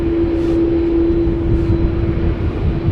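An airliner departs Schiphol bound for Kigali, a steady loud jet roar with a strong constant engine hum, close and continuous and alone, with no one talking.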